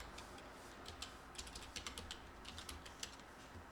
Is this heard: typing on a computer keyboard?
yes